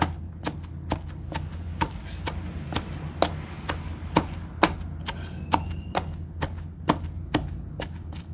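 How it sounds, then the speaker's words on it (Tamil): Curry leaves are pounded in a mortar for village-style pepper rasam, sharp rhythmic thuds repeating roughly twice a second, close and steady with no talk. "ஸோ கருவேப்பிலை போட்டு இடிச்சிட்ருக்குறேன்."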